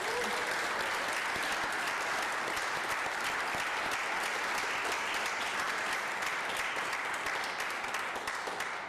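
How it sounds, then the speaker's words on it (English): A church audience applauding at a Palm Sunday service, a long sustained round of many hands clapping at an even, full level from start to finish, with no talking over it. "Should we give these guys a massive clap?"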